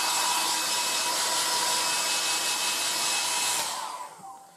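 A 1980s Black & Decker SW105 Stowaway 1000 travel hair dryer, which has dual heat and speed settings, blows with a steady, loud rushing whir, then switches off and winds down near the end.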